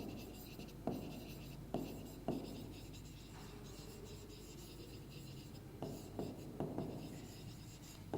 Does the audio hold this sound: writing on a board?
yes